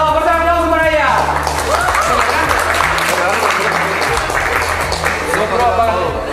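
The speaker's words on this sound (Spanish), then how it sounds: "¡Fuerte aplauso para ella!" A crowd claps and cheers for a female student at a school photo session, the applause dense and sustained after a short spoken call, with voices mixed in throughout.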